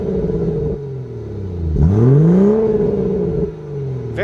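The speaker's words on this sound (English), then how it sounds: "Let's get a little rev time with this B58 new engine." A BMW 440i with the B58 engine revs up and settles back, its exhaust rising in a sweeping pitch around the two-second mark over a steady idle rumble, close and loud, with no talk.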